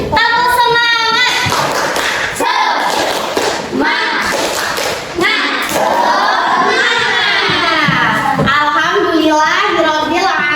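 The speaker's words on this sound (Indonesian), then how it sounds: "Tepuk semangat." Schoolchildren in a classroom religious-studies lesson perform a rhythmic spirit clap, loud patterned claps and thumps mixed with children's shouted chanting and cheering throughout.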